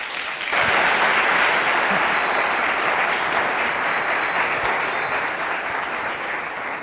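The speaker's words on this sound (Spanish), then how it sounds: "vamos a recibir con un fuerte aplauso a Rocío" An audience applauds to welcome a speaker named Rocío onto the stage, a dense, steady wash of clapping that starts abruptly after a brief pause and carries on loudly for several seconds before easing slightly.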